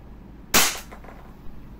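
A single sharp shot from an EMG STI JW3 airsoft pistol firing a .20 BB, one loud crisp crack with a short decay, standing alone against quiet room tone.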